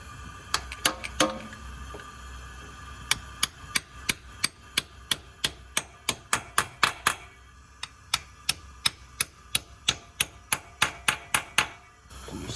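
Valve spring bases on an LS1 engine in a VN Commodore being tapped down with a socket, a long run of sharp, close metallic knocks in quick, fairly even groups with brief pauses between and no talking.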